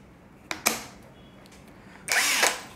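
JPT heavy-duty 21V cordless impact wrench giving two short whirring runs, a quick double blip and then a longer burst that spins down, close by with no voices.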